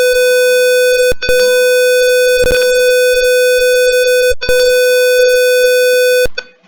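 Sensor-triggered hazard alarm buzzer on a logic-gate circuit project, a loud harsh continuous tone that cuts out briefly twice and stops near the end, with faint clicks and no talk.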